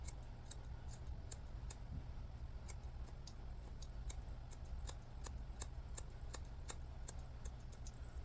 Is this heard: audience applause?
no